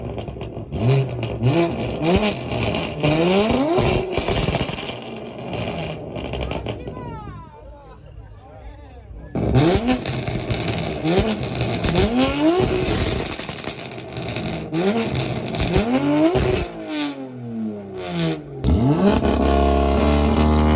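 A BMW F80 M3 with a loud single-exit exhaust revs hard in repeated sweeping bursts, dropping briefly to a quieter idle midway before roaring up again, close and very loud throughout.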